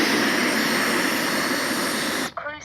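A Freewing A-4 Skyhawk RC jet with an 80mm electric ducted fan lets out a loud, steady, high-pitched whine that holds even and then cuts off abruptly near the end.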